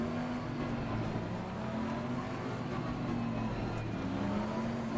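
Bentley Continental GT3 race car in Assetto Corsa Competizione at Zandvoort, its engine droning steadily at close range with a wavering pitch as the car weaves on cold tyres.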